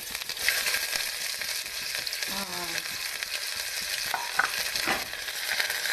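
Chopped onion sizzling in very hot oil with cumin seeds: a loud, dense, continuous frying hiss with some stirring scrapes, close by and with no talk.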